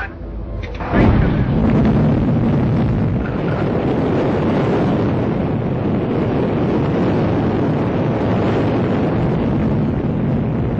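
Explorer 1 rocket launch in 1958: a sudden loud ignition after a second of quiet swells into a sustained, dense roaring rumble that holds steady and loud to the end, with no voices.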